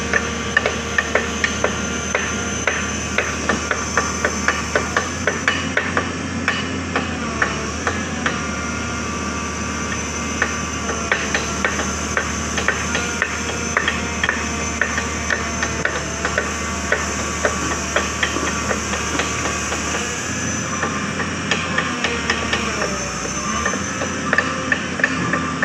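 A drilling rig boring foundation piles for a retaining wall beside a road, a loud steady mechanical drone with rapid repeated clanking knocks throughout, heard close and continuous.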